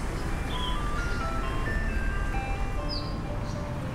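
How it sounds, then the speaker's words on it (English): An ice cream truck jingle in the game Downfall, a thin tinkling melody of single notes playing steadily and somewhat distant over a constant broad background hiss, with no talking. "Ice cream truck?"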